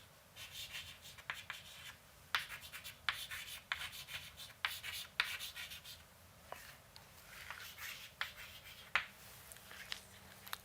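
Handwriting scratches close by during a lecture, quiet bursts of pen strokes and taps coming in irregular clusters over a faint background, with no talking.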